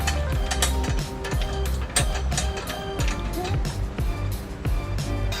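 A ratchet tightening bolts for a trailer hitch on a 2001 Honda Odyssey, a close, rapid run of clicking strokes in repeated bursts, with someone talking over it.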